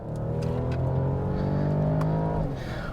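A 2021 Mercedes E450 All-Terrain wagon under way, its engine droning steadily from inside the cabin and rising in pitch, then dropping sharply near the end as the transmission upshifts.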